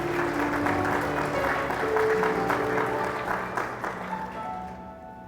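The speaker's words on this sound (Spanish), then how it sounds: "Dele un aplauso a esa palabra del Señor." Church congregation clapping after a scripture reading at a worship service, a moderate, fairly quiet round of applause with a sustained tone ringing underneath, thinning out and fading by the end.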